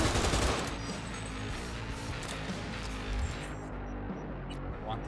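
Rapid automatic gunfire from a weapon in the video game Cyberpunk 2077 bursts loudly at the start, then thins into a sustained, quieter rattle of shots and game noise lasting several seconds.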